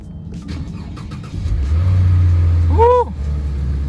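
A Lexus engine cranks and fires up on the first try, the starter whine giving way to a loud, steady idle with a brief rising squeal near the end, close by with no talking.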